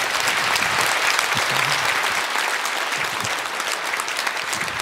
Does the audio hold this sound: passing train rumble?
no